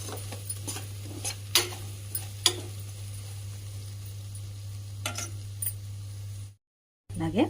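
Spices frying in a pan with a spoon stirring, scraping clinks and light sizzle over a steady low hum, cooking for a coconut milk soya pulao, with a short silent gap near the end.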